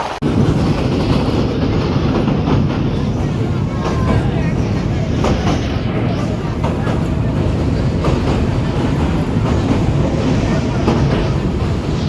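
The Mohua commuter train entering Gouripur junction, heard from on board: a loud continuous rumble of rail wheels with rhythmic clickety-clack over the track joints, steady throughout.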